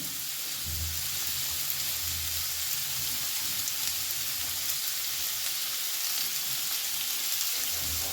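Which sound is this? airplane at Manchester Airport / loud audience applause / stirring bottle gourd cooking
stirring bottle gourd cooking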